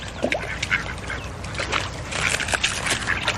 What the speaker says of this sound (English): Here you go, ducks.